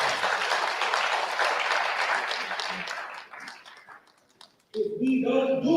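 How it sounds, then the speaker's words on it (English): Audience at a Kwanzaa gathering bursts into sustained, loud applause that fades after about three seconds, followed by a short lull and then renewed clapping with voices near the end. "you can clap for that"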